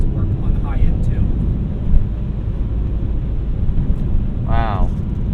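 A BMW E46 330i ZHP engine droning loudly and steadily from inside the cabin, rumbling throughout, with a short vocal exclamation near the end.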